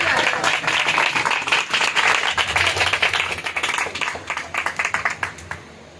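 A church congregation claps together during an Urdu worship service, with dense sustained applause that loosens into scattered claps and fades out.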